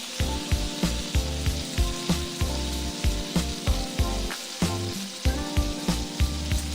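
Mushrooms frying in a pan, cooked until translucent for Tuscan chicken mac and cheese: a steady close sizzle with rhythmic scraping and stirring strokes, regular and fairly loud, with no talking.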